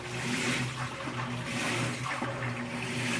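Water sloshes and churns inside a Whirlpool top-load washing machine during its wash cycle, a low steady hum of the motor beneath irregular splashing.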